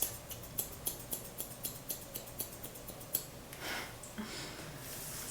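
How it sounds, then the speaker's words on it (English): Scissors snip through hair in a quick, regular series of crisp close clicks during a DIY layered haircut, followed by a softer rustling pause and a few more cuts, all quiet and near. "Just listen to the ASMR of the scissors"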